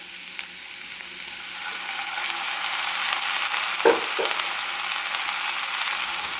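Cauliflower fried rice being stirred with soy sauce in a pan over a steady frying sizzle, with a couple of brief spoon clinks partway through.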